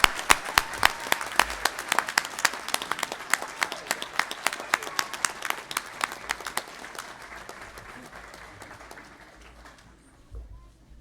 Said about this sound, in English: Graduates, why don't you stand up and give them a round of applause.